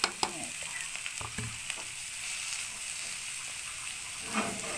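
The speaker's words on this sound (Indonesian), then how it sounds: "Oseng daun singkong." Boiled cassava leaves being stir-fried with seasoning and fried dried shrimp in a pan: a steady close sizzle and hiss with scraping stirs and clinks of a utensil, no talking.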